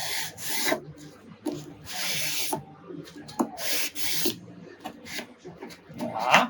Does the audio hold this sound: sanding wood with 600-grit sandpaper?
yes